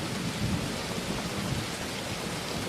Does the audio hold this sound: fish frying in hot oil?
no